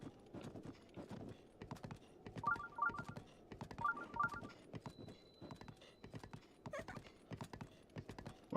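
Horse hooves clip-clop in a steady rhythm in a video game, close and clear, with a few short electronic beeps chiming in between steps.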